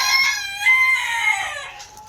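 Chickens and a rooster on a small sheep farm: a loud, close rooster crow rings out over a couple of seconds, with clucking from the hens mixed in.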